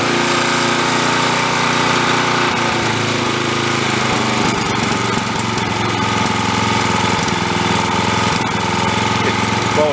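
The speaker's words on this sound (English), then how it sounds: "Let's go rev it up." A small engine on a busted log splitter runs at steady high revs, loud and close, with a rough, knocking mechanical rattle throughout and no talking.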